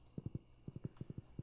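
A horse ridden in the video game Stardew Valley clops along in quick, evenly spaced hoofbeats grouped in little runs, close and clear over a faint steady tone.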